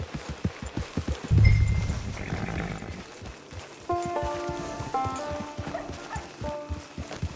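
In the game Red Dead Redemption 2 Online, horse hooves clop steadily at a walking pace nearby, followed by a brief snort and then a few soft musical tones over the quiet background.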